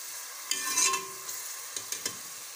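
Onions cook in a pan for a chicken dish, with a soft sizzle and a few brief scraping stirs in a short, quiet stretch with no talking.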